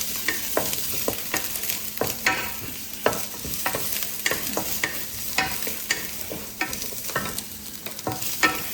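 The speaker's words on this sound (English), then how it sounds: "We use the high temperature stir fry" Zucchini stir-fries over high heat for a quick vegan Chinese dish: a constant loud sizzle is broken by rapid, irregular spatula scrapes and clanks against the pan, close up with no talking.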